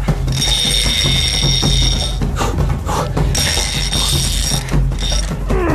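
A tightened fishing reel drag clicks and ratchets in a rapid mechanical stream as a very large river fish pulls line, loud and close, with high ringing tones over it and a brief pause midway.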